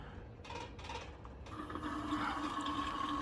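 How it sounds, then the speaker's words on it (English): Liquid gurgles and bubbles through a hose while the secondary air injection port on a Porsche 993 is being cleaned, a faint, close, uneven wet churning that grows steadier after a short pause. "You can hear the gurgling."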